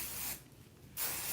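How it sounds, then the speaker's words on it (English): Sebastian Shaper hairspray gets a single short hissing burst from the can onto coarse, textured hair, close and brief, with a steady background hum before and after. "I like to spray it all over all at once and then kind of rub it through"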